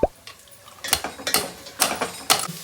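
Soya chunks (meal maker) get rinsed with water in a kitchen, giving a series of close, irregular wet sloshes, squelches and small splashes spaced a fraction of a second apart.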